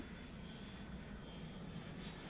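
A steady airplane engine drone from the video game Mini Airways, a plane taking off, holding a continuous even roar throughout with no talking.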